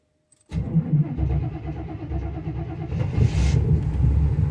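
An old Chevrolet Squarebody plow truck engine cranks and catches at once, then settles into a steady, close, loud idle that swells slightly near the end, with no talking.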